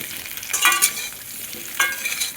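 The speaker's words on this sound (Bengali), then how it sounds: "খিচুড়ির জন্য এবার আমরা আলুটা ভেজে নিই" Potatoes frying in oil in a wok (karahi) for beef khichuri, two short bursts of sizzling and scraping as they are stirred, set over a quiet background hiss.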